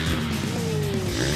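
A dirt bike engine runs loudly while riding on sand at a Pattaya dirt bike park, its whine rising and falling close by with continuous rough noise.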